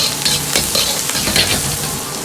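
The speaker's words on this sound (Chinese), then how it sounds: "油热后，先下入肉末，煸炒出香味，炒出肉末里边多余的水分。" Minced pork stir-fries in hot rapeseed oil in a wok: loud, close crackling sizzle broken by quick rhythmic scrapes and tosses of a spatula against the metal.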